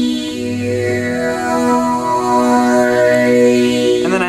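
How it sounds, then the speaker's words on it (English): A resonant sawtooth synth layer played alone on a keyboard, sustained chords with steady harmonic tones over a low held note, ending with a brief swept tone near the close. "another layer I'll add on top of the pad and the sparkles is kind of like a resi sawtooth sound"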